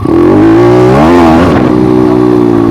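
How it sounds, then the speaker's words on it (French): A motorcycle engine in second gear is given a strong throttle blip, a loud, close, continuous engine roar whose pitch rises, wavers and settles over a few seconds. "Là, je vais donner un coup d'accélérateur."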